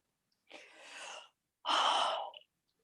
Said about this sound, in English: And you got a yawn at the end